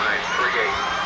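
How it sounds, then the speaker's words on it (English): A big high school football crowd cheers and shouts from the stands, a dense, sustained roar of many voices as fans try to get the wave going. "I mean, you know you have a big crowd at this high school level when they're trying to do the wave."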